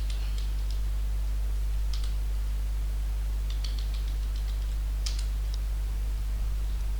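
Faint, sparse clicks of password entry on a computer keyboard during an FTP server setup, a few scattered key taps over a steady low hum.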